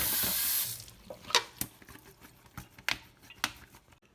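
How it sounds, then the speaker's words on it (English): A potato is rinsed under a running kitchen tap; a short burst of flowing water is followed by scattered knocks and clicks as the potato is handled in the sink. "first step, we gotta wash the potato"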